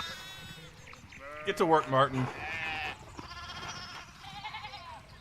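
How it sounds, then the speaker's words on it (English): Sheep bleat in a short run of loud, wavering calls in the video game Pentiment, with speaking voices before and after. "we need to get these sheep under control"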